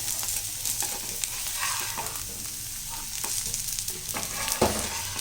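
Garlic dosa sizzles on a hot pan as it turns crisp. The steady frying hiss runs close and continuous, broken by faint scraping and clicking from the pan, with no talking.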